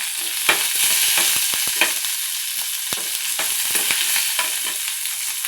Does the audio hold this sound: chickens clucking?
no